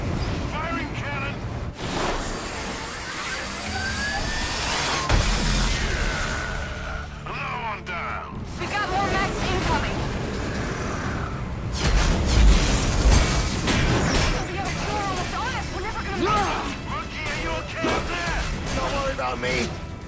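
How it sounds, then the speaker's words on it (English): Cannon fire and explosions in the video game Enslaved: Odyssey to the West, a dense, continuous battle din of booms, crashes and bursts with clanking mechanisms, loud throughout and heaviest near the middle. "Firing cannon!"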